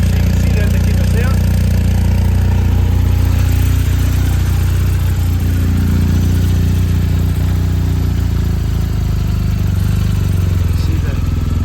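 A 2021 BMW R1250RT motorcycle idling steadily while warming up, a loud, close, even engine rumble that holds throughout with no revving.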